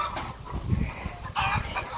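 Chickens clucking on a poultry farm in Ghana, a scatter of close hen clucks and squawks with a louder burst of calls near the end, over faint farmyard background and no talk.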